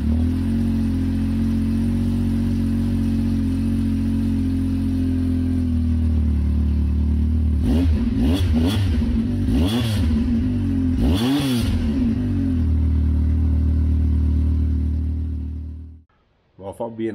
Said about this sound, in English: let's go ahead and listen to our final exhaust note.